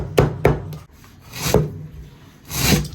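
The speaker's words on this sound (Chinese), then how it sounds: "葱切成马蹄状" A knife cuts scallions into horseshoe-shaped pieces on a board while a hotpot base is being made. Four separate chops come at uneven intervals, each a sharp knock with a brief scrape, close by and with no talking.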